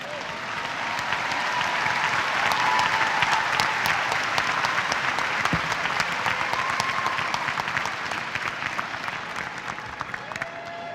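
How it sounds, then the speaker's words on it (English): Sustained crowd applause at a spring university commencement ceremony honouring master's degree graduates, dense and steady from a large audience, a few whoops rising over the clapping, no speech. "So please give a round of applause for the master's degree students."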